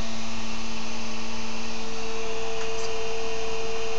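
An experimental three-phase motor, each coil on its own phase circuit around the rotor, spinning up with a loud constant electrical whine and steady hum over broadband noise, the tone holding level throughout.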